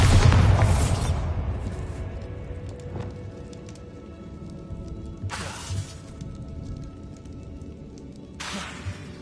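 A Bombarda spell bursts in Hogwarts Legacy with a loud, booming shattering blast that fades slowly, followed by two more sharp crackling impacts a few seconds apart, all close and without voices.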